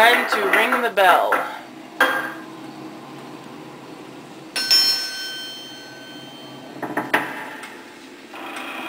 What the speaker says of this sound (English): Time to ring the bell.